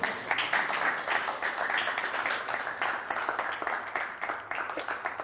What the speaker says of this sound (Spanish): Ahora sí, si quieren, les pueden aplaudir también.